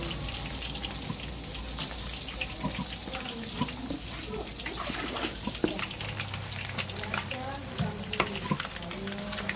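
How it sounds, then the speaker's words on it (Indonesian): Noodles frying for mie goreng at a late-night roadside food stall, a steady sizzle with clattering stirring and scraping of utensils in the pan, close and continuous, with faint voices in the background. "Bikin mie goreng Om."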